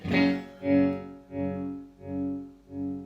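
Roger Mayer Voodoo Vibe chorus/vibrato pedal with its bias shifted toward the end of the curve, five slow swelling guitar notes rising and fading in a pulsing, wavering rhythm, clear and alone.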